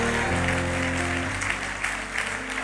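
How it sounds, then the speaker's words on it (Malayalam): A church congregation claps together in thanks during a Malayalam Christian sermon, a dense, steady wash of hand claps that carries on for a few seconds with no talk over it. "ഒന്ന് കൈയടിച്ച് കർത്താവിന് നന്ദി പറഞ്ഞേ"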